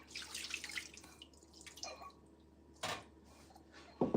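Water drips and trickles in a kitchen sink during dishwashing on a homestead, with soft splashes and clinks scattered across the moment and a sharper splash near the end, fairly quiet and close.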